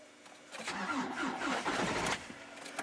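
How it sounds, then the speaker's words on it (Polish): Hyundai Santa Fe 2.0 CRDi diesel engine cranking as it tries to start, a short burst of rough rhythmic churning that rises and falls for about two seconds, moderately close. "Słychać, że pompa już inaczej chodzi."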